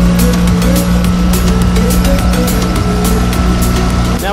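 A Mercury 9.9 high-thrust outboard kicker motor runs on the back of a boat, a loud, steady close-up engine drone with a constant low hum and no speech.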